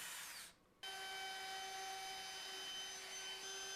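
A drill press bores 7/16 inch holes in wood with a steady high whine. The motor cuts out briefly, then spins back up and runs on evenly at close range.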